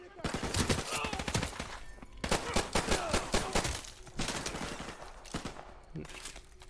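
Rapid gunfire from the Call of Duty 4: Modern Warfare campaign, dense volleys of automatic shots in repeated bursts that continue throughout, with a brief lull near the end.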